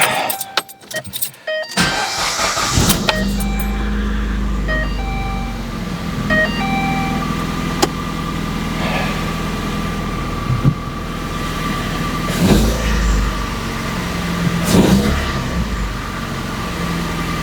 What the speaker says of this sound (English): Let's see if that idle smoothed out.